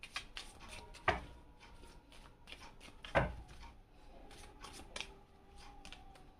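Tarot cards handled and drawn one by one for a three-card reading, soft shuffling and sliding with two sharper slaps standing out, quiet and close with no talking.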